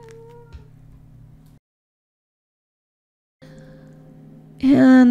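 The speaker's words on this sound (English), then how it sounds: "my cat is demanding my presence right now" A house cat meows loudly and close by near the end, after quieter tonal sounds and a brief silent pause.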